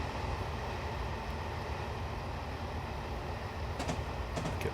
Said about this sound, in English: underground trains running in parallel